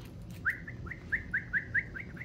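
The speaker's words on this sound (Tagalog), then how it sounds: "Tweety Bird! Tweety birdie! Where are you?" A pet bird chirps indoors in a bright, quick series of about eight short tweets, fairly close and clear over a low background hum.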